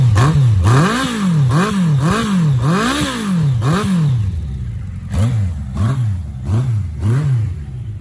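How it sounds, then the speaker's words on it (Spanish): A Yamaha XJR 1300 cafe racer motorcycle revs repeatedly up close, loud rising and falling throttle blips in a quick series, then a short pause and several more revs. "Un par de acelerones más, a ver qué tal."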